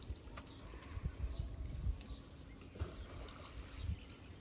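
Water being splashed and poured over cows as they are washed, a steady low wet rushing with irregular splashy bursts, moderately quiet with no talk.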